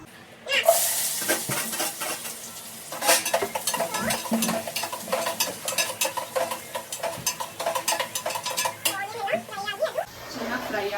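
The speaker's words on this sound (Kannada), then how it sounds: "ಚೆನ್ನಾಗಿ ಫ್ರೈ ಆಗಬೇಕು ಆನಿಯನ್ನು. ಸೊ ಅಲ್ಲಿವರೆಗೂ ನಾವು ಎಣ್ಣೆಯಲ್ಲಿ ಫ್ರೈ ಮಾಡ್ಕೋಬೇಕು." Onions frying in hot oil in a pan for chicken biryani, stirred with a metal utensil, giving repeated scraping clinks and clatters of metal on the pan over a soft sizzle, close and moderately loud.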